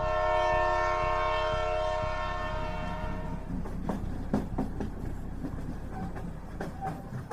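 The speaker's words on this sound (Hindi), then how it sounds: "थोड़ी देर बाद ट्रेन चल पड़ी।" A train pulling away, with a long sustained horn blast at the start fading into rumbling wheels and carriage clatter, fairly loud and close, with no voices.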